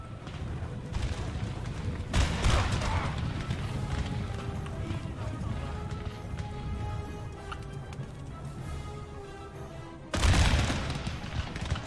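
Napoleon: Total War battle with musket volleys and artillery booms rumbling over a continuous dense din of marching and gunfire, two louder bursts standing out, no talk.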